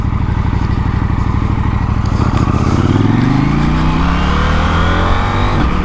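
A KTM 890 SMT motorcycle rolls downhill with a loud, close engine note from onboard, pitch sweeping as the rider shifts and the revs fall and rise, with wind noise underneath.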